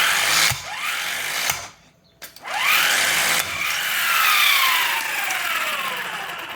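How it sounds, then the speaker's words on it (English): Electric impact wrench from a UAOAII 5 ton electric car jack kit loosening a car wheel: loud whirring, hammering bursts with rising and falling pitch, one brief pause in the middle, then a long run. "it has a kind of like a hammer system inside, where you literally just put it on the wheel and push this button"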